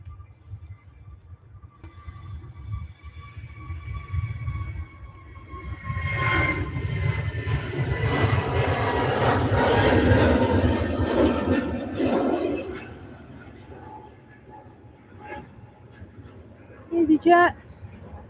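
An EasyJet airliner takes off at Manchester Airport, its engine roar building from a distant rumble to a broad, loud peak mid-clip before fading away, with people talking over it and a short burst of sound near the end.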